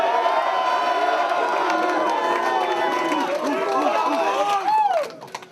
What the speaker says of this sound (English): after 3 sick rounds from SCIZZAHZ and SENSA, make some noise for these first 3 rounds.